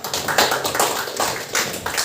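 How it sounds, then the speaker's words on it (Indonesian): Hands clapping in a steady series of sharp, close claps, loud and alone with no talk, in a classroom-style lesson about countries. "Tepuk tangan."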